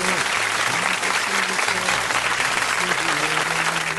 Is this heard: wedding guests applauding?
yes